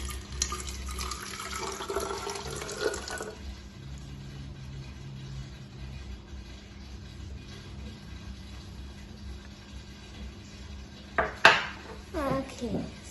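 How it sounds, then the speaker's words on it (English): Around 100 ml of water poured from a container back into a bottle in a classroom-style states-of-matter demonstration. A trickling pour fills the first few seconds, followed by near quiet, then a few sharp knocks of containers near the end. "I'm going to take it and pour it back into this bottle"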